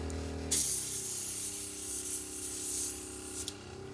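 A hobby airbrush being cleaned sprays a sharp, loud hiss that starts abruptly and runs steadily for about three seconds, then cuts off with a brief burst and a click.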